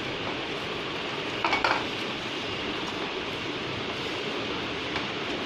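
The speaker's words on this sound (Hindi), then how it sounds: "अब इसे यूं ही मथते रहेंगे और ये धीरे धीरे पैन के नीचे टाइट होता रहेगा" Milk and gulab jamun dough being stirred and pressed in a pan, a steady soft scraping and faint sizzle running throughout, with a couple of brief utensil clinks against the pan.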